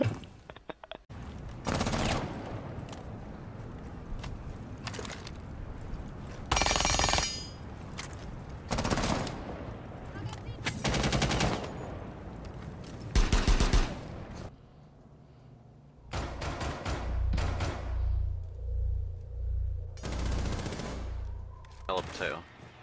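A console shooter video game plays bursts of automatic gunfire and loud shots. The bursts come repeatedly with short pauses between them, and a player talks over parts of it.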